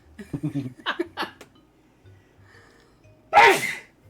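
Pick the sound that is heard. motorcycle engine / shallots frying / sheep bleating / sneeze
sneeze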